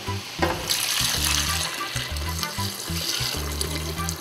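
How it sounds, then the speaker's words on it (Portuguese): Hot water is poured over chicken in a cooking pot, a steady splashing pour lasting several seconds over a low background hum of music. "vou botar água quente"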